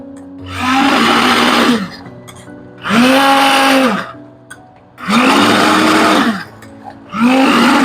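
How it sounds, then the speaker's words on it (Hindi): An immersion blender blending spices whirs in four loud bursts of about a second or two each, separated by short pauses, its pitch dropping as each burst ends. "इमर्शन ब्लेंडर निकाल। अब हम इसको ब्लेंड कर रहे हैं मसाले को।"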